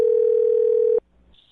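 A telephone dial tone plays as a single steady, loud tone for about a second and then cuts off abruptly, followed by faint quiet line noise.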